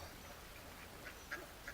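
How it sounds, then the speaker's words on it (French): Wild mallard ducks at a harbour give a few faint, scattered quacks at a distance over a soft, steady outdoor background. "Alors, il y a des colberts."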